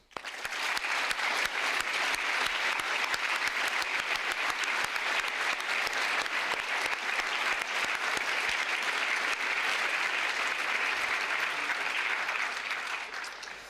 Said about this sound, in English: I'd like you to join me again in applauding all the winners.